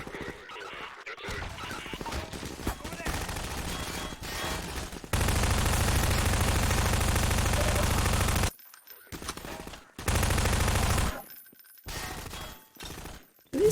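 Bursts of SMG and assault rifle fire in a Half-Life map, rapid automatic volleys in several loud stretches separated by brief pauses and quieter gaps.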